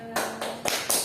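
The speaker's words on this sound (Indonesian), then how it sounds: "Tepuk tangan semuanya." Podcast hosts clap for a guest in a small studio, a few loud, close claps in quick succession.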